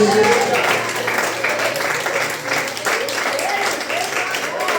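A church congregation applauding Jesus during a Portuguese-language sermon, broad clapping from many hands under a loud, continuing voice, with the room's echo filling out the sound.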